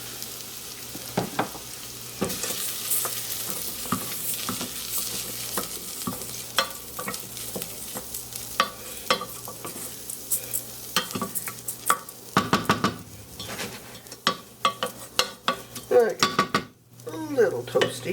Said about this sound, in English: We do want to toast the rice a little bit.